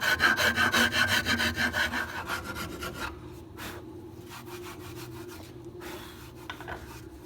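A rasp shapes a wooden guitar neck in quick, rhythmic, gritty strokes, close and loud at first, then fading into softer scraping and rubbing.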